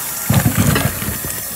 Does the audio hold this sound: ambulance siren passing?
no